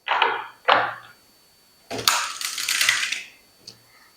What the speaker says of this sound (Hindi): let's shuffle up your cards first